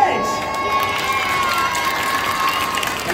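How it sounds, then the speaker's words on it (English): Children at a science show cheer and applaud for a performer, a loud, continuous crowd of shrill shouts and clapping close by. "please give a big round of applause for Professor Edge"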